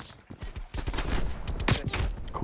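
Rapid bursts of AR rifle gunfire in a video game crack out in dense clusters, loud and close, with a few scattered shots before a sustained volley.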